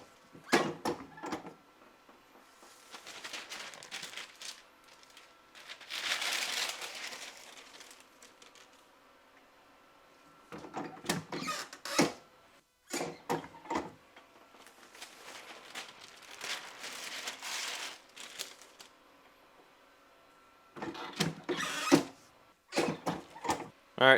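A heat press used to dry DTG pretreat on a garment is opened and closed repeatedly, giving several bursts of hissing, rustling and mechanical clunks separated by short quiet pauses, close by and with no talking.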